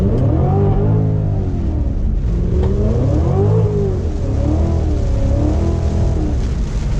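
A 650-horsepower Cadillac CTS-V engine roars close and loud, its pitch climbing and falling through several rising sweeps as it accelerates and shifts, continuous throughout with no voices.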